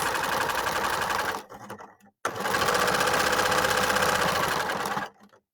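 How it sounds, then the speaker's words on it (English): Sewing machine stitching along a quilt edge at a 3/8-inch seam, running in a steady close whir that pauses briefly partway, then resumes and stops near the end. "So I'm going to go keep sewing at 3/8."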